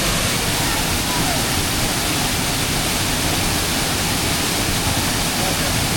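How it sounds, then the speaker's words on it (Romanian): The Urlătoarea waterfall in the mountains near Predeal roars as a dense, continuous wash of falling water, loud and unbroken, with voices faintly mixed into the rush. "Cascada face asta, nu eu!"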